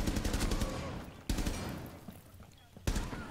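Gunfire in Rainbow Six Siege, a dense run of rapid rifle shots followed by two further bursts with sharp loud onsets, loud and close throughout.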